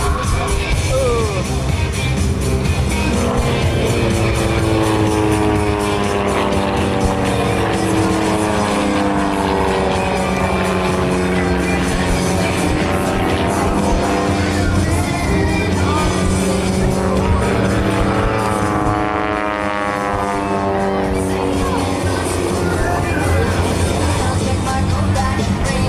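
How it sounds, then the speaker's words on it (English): A jet-engine truck roars at an airshow runway as it lights its afterburners with planes passing low overhead, a loud continuous rushing engine drone with rising and falling tones throughout. "Get your cameras ready, because Ken and John are going to fly right over top of him, too, as he lights up those afterburners."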